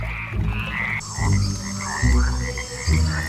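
A cane toad croaks in a series of loud, close, low throaty calls, roughly four pulses in quick succession with brief pauses between them.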